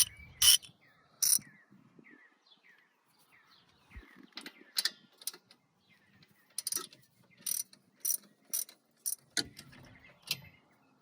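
A ratchet and socket work the rusty rear strut bolts of a 2007-2011 Toyota Camry, giving a quick run of small, close ratcheting clicks followed by several sharp, loud metallic clanks and knocks.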